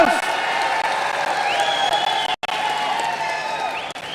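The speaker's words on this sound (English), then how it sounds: "Keep those claps going for the megastar" A large festival audience applauds and cheers for Chiranjeevi at the International Film Festival of India closing ceremony in Goa, a dense, steady wash of clapping and whoops with voices mixed in, briefly cutting out for a moment midway.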